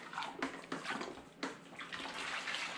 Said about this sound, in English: So I can thoroughly agitate this and get some more oxygen into my mix.